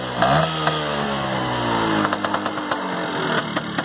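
A 1979 Vespa P125 scooter's small two-stroke engine catches after a kickstart and runs steadily close by, with a few sharp revs and pops near the end.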